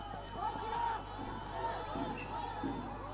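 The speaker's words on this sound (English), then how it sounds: "The home crowd shouting in unison" A home football crowd at a Bhutan Premier League match chants together in a sustained, tonal roar from the stands, heard at a distance beneath a commentator talking.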